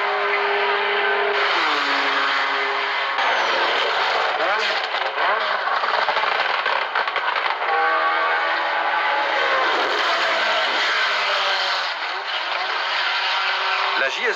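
Race cars at the 1975 24 Hours of Le Mans, engines whining past in rising and falling sweeps on archival-sounding audio, with a commentator speaking over them.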